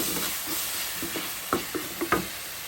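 Stir-fried noodles with chili tossed in a hot pan: steady sizzle underneath, with several quick scraping strokes of a spatula that grow sharper toward the end. No one speaks.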